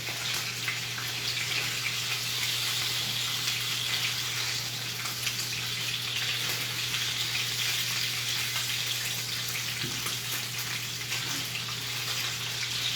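Bacon sizzles and crisps steadily in a greasy pan alongside hamburgers for a low-carb dinner, a constant close hiss with faint pops and no talking.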